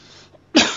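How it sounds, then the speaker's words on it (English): A single harsh cough from someone with a chest cold, a short loud burst after a brief quieter stretch, close to the microphone. "Sorry for the coughing. Like I said, I still got a chest cold."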